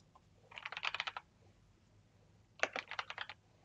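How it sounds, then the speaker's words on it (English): Keys, including the right arrow, are pressed on a computer keyboard: two quick bursts of crisp clicks, close up, with silence between them. "Right arrow on the keyboard, okay."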